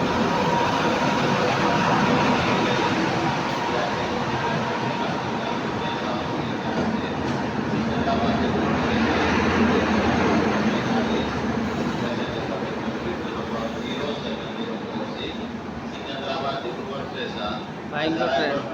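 A long-delayed train pulls into an Indian railway station with a steady heavy rumble and rolling wheel noise close by, while people talk over it.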